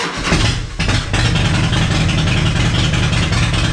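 A 2004 Harley-Davidson V-Rod motorcycle engine catches after a brief sputter and settles into a loud, steady running rumble up close.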